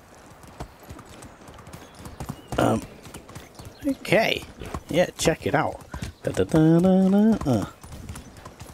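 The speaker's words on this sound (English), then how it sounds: "Okay, let's mount this horse. Let's ride." Horse hooves clip-clop steadily as a rider travels on horseback in the medieval life-sim game Medieval Dynasty, a close, rhythmic patter running under a man's excited chatter, with a brief whinny-like tone near the end.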